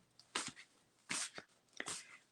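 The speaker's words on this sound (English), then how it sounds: "My big snoring dog in the background." A big dog snores faintly in the background of a quiet room, giving three short, breathy snorting bursts spaced about a second apart.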